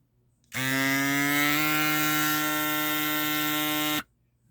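A FLEXTAIL portable electric air pump for bikes, mattresses and balls runs steadily for about three and a half seconds with a loud, even motor whine. It starts and stops abruptly, and no one speaks.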